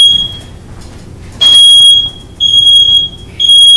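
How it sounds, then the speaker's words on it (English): A smoke alarm, set off by a wok left on high heat, shrills in loud, piercing beeps: one short chirp, then three longer bursts with brief gaps between them, over a quiet room. "smoke alarm going."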